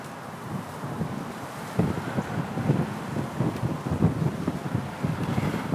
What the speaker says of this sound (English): No, it's windy. Like my hair is going everywhere.